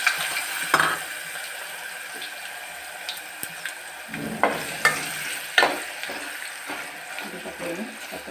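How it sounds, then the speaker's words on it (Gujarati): Potatoes dropped into a hot tempering of mustard seeds, asafoetida, garam masala and curry leaves in oil, giving a soft background sizzle broken by several sharp crackles and stirring clatters, close by. "અને પેલા બટેકાનો વઘાર કરશું।"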